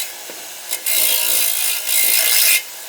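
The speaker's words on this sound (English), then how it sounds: "I'm going to push it through the brush, get all the burrs off of it" A metal lock pick is pressed against a spinning wire brush wheel to strip off burrs, giving two sustained bursts of harsh, hissing abrasion with a brief scrape just before them, close and loud, with no voices.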